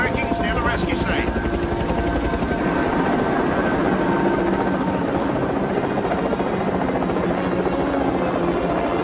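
A helicopter flies over a rescue site in a movie, its rotor chop steady, loud and continuous throughout, with a brief radio voice near the start.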